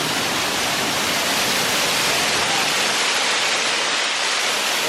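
A snowy waterfall rushes in a dense, unbroken roar, loud and close, a steady wash of white noise with no change in texture and no voices.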